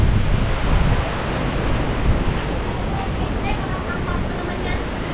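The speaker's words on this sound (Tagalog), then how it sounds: "Ang lakas ng hangin." Strong seaside wind buffeting the microphone, a loud continuous roar with gusty bursts, mixed with the wash of surf along the shore.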